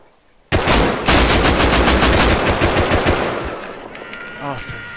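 Automatic gunfire from a weapon in the video game Rust, a loud sustained burst of rapid shots that tapers off into quieter game sounds.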